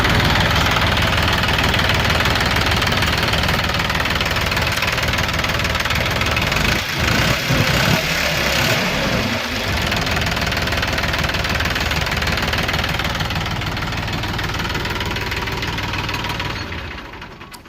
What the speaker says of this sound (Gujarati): તમને આગળ ટ્રેક્ટરનો એન્જિનનો અવાજ સંભળાવશું